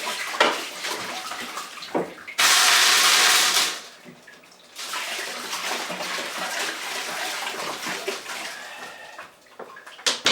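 Tumbled agate and chalcedony rocks get rinsed under running water, a loud close gush from the tap that stops after about two seconds, then quieter splashing and rattling of stones with no speech.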